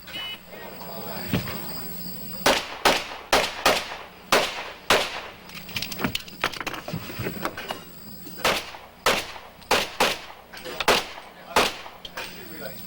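Pistol shots ring out at a 1990 USPSA national championship stage, sharp cracks fired in quick bursts of two or three with brief pauses between, loud and close, with a shooter engaging targets on one side, reloading, then switching sides.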